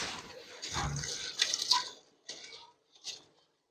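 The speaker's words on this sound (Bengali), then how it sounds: "এবার আমরা চাল আর মুসুর ডালটা যে ভিজিয়ে দেওয়া ছিল একসাথে," Soaked rice and masoor dal are tipped into a pot, giving a wet splashing pour that comes in a few short bursts and then trails off into quieter drips.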